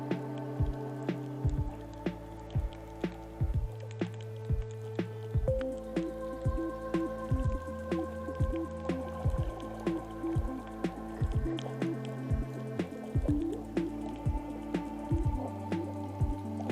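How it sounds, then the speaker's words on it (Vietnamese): Air bubbles blown underwater while snorkeling in the sea off Cebu, Philippines, giving a series of repeated bubbly glugs and pops in an irregular rhythm, close and fairly quiet. "Thổi bong bóng khí."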